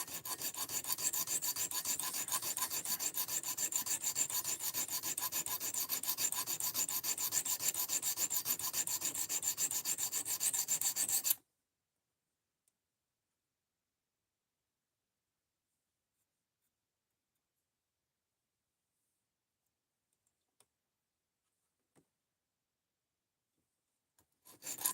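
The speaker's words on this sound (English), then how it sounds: "So I usually sharpen most of my stuff at 17 or 18." Steady abrasive rasping of a knife blade being sharpened on a sharpening system at a 17 to 18 degree angle, continuous and close for about eleven seconds, then stopping into near silence with a few faint clicks.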